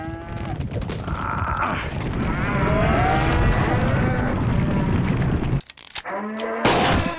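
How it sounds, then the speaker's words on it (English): A couple of cows moo in a loud, drawn-out call over a dense, rumbling background. The din cuts off abruptly near the end and starts again after a short gap. "It's a couple of cows."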